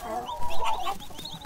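Chickens on a farm in the video game Dinkum cluck in a short, close run of soft, bubbling calls.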